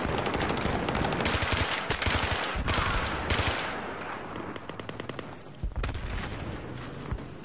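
Gunfire in the video game Battlefield 3, multiplayer conquest on the Bazaar map, with loud close shots and rapid bursts of automatic fire that crowd the first half, then thinner, sharper cracks and scattered shots toward the end.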